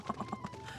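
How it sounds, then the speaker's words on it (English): Four quick hoof clip-clops from a large horse mount in the Final Fantasy XIV video game, evenly spaced and fairly close, followed by a soft tonal game hum. "That's a big ass horse."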